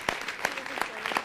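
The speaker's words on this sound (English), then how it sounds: "Give Craig Hammond a great big round of applause" Brief applause at a city council meeting, scattered claps rising in a few distinct bursts, moderately close, mixed with faint voices.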